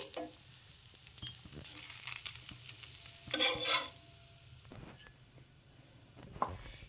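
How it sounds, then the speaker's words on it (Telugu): Leftover-rice dosa cooking on a hot pan, flipped and roasted on both sides, gives a steady soft sizzle with a few light scraping touches and a brief louder burst midway, close and fairly quiet. "ఇలా ఇంకో సైడ్ కూడా తిప్పేసుకోవాలి ఇలా ఇంకా రెండు వైపులా బాగా కాల్చుకొని తీసేసుకోవడమే"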